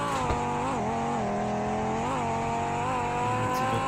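A car in the Roblox game Car Dealership Tycoon drives through a tunnel, a game engine drone with steady tonal whine that rises and dips with revs over a few seconds, some faint tire-squeal character.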